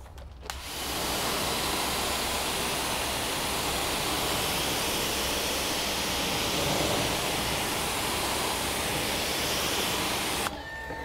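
Steady, loud spray of water rinsing down an off-road vehicle tire, a continuous broadband hiss lasting about ten seconds before cutting off.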